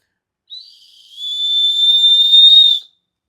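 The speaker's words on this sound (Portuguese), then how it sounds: "ele tem um apito" A single long, shrill blast from a small emergency whistle carried on a paracord everyday-carry kit, starting soft and rising to a loud sustained tone that holds for about two seconds before stopping cleanly.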